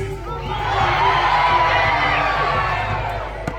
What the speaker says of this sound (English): Let me hear your cheers for your houses.